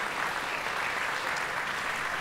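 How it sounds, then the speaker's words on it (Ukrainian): Steady, full applause from a stand-up comedy audience at a solo show, dense clapping sustained at an even level without voices. "їм найбільші оплески"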